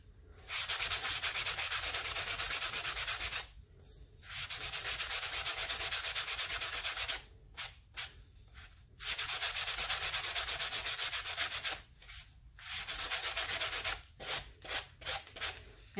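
Someone sands the rim of a tumbler by hand, making a close, dry, scratchy rasp in long bursts broken by short pauses, then quick short strokes toward the end.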